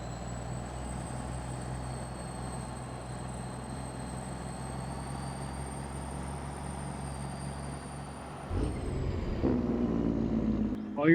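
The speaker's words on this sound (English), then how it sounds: "I do like the sounds of these trucks." Trucks in a video game: a steady low engine drone with a faint high whine holds for several seconds, then a sharp air-brake hiss and louder revving engine rise near the end.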